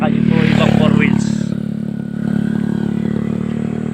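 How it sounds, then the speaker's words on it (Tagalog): Motorcycles and tricycles pass on a new access road in Lucena City, with a loud steady engine drone and clattering, as someone speaks over the traffic. "Dito na po dumadaan yung mga motor, tricycle, tsaka dito ibang 4 wheels."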